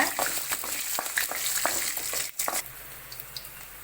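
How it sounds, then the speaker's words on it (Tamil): Ten or fifteen garlic cloves frying in a pan for cucumber chutney, a close, crackly sizzle punctuated by quick stirring scrapes, easing to a quieter fizz toward the end. "ஒரு பத்து பதினஞ்சு பல் பூண்டு சேர்த்துக்க அதையும் வறுத்துக்கோங்க"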